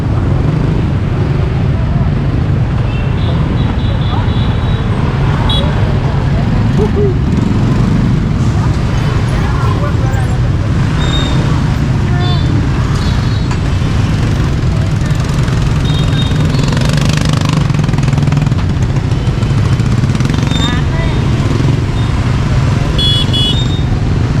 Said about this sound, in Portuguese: agora as motos